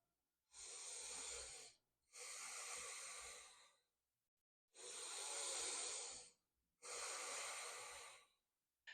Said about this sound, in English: So take a couple deep breaths in and out in order to activate the diaphragm